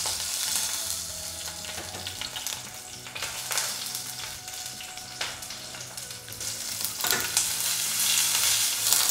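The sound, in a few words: garlic frying in hot olive oil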